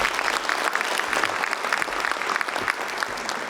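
An audience at a Michigan governor candidate forum applauds a candidate being introduced. The clapping is a steady, dense wash of many hands at moderate volume and keeps going through the whole stretch.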